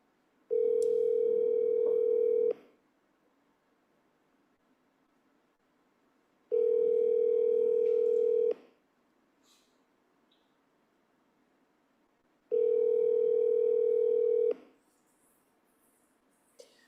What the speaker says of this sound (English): I'm going to call her again, second time.